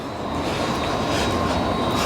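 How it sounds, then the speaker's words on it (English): A Sydney tram rolls past close by, a loud continuous rumble with faint metallic squeal and rattling wheels, no talking. "there's a tram coming."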